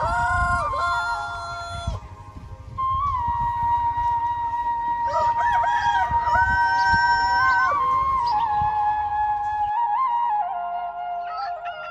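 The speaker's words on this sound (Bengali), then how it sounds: "তাই তো কুক্কুরুকু শব্দে ভোরের অ্যালার্ম ধ্বনি দেয় মোরগগুলো।" Several roosters crow at dawn in a rural setting, long overlapping cock-a-doodle-doo calls, loud and close, one after another with clucking between.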